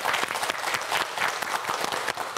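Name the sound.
studio audience applause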